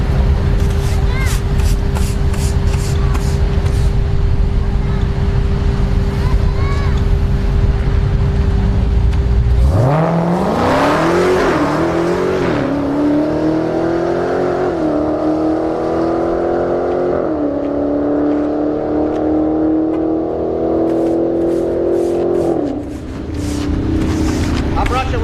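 A Chevrolet Camaro ZL1 making a solo drag-racing pass launches with a sudden roar and accelerates through several rising gear-shift sweeps before backing off. It is heard at a distance over steady background noise at the strip.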